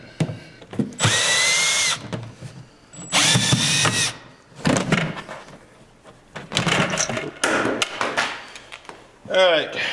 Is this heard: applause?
no